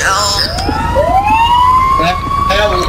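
A fire engine siren sounds in the video game GTA 5, its wailing tone sweeping up and holding steady, loud and close, with muffled voices underneath.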